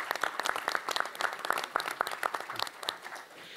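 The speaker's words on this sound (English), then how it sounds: "So I think that you all deserve a round of applause" Audience applause for panelists at a symposium session, a modest group clapping with distinct individual claps standing out, tapering off near the end.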